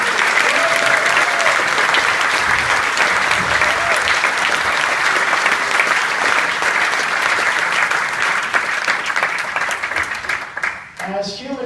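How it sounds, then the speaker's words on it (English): An audience at an interfaith Thanksgiving prayer breakfast in a hotel gives a loud, sustained round of clapping that holds steady and then fades toward the end. "can I ask you to put your hands together and through your applause, say a very special thank you to our friends here at the Hotel Kabuki"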